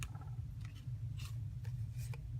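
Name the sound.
cutting with scissors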